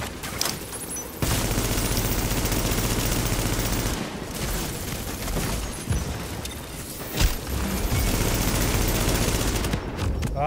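Heavy video game shootout gunfire, loud continuous bursts of automatic fire and booms that stop abruptly a few times before resuming, up close and without voices.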